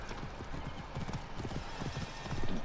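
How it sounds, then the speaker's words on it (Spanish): A horse gallops in the video game Assassin's Creed Origins, its hooves beating a quick, steady clip-clop rhythm over a continuous game soundscape. "vamos a llamar a nuestro caballito y directamente que nos guíe por el camino"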